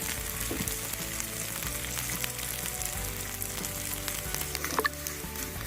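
Garlic and asafoetida tempering for Andhra-style sambar sizzles steadily in hot oil, a close, continuous crackling fry with faint pops and no talk.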